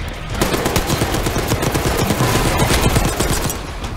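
Rapid automatic gunfire from a weapon in Call of Duty: Black Ops 6 rattles loud and close in a dense, continuous burst lasting several seconds with no pauses.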